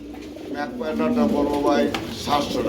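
Pigeons at a bird market give low, warbling coos that rise and fall steadily, with a bird or two calling close by and people talking over the sound.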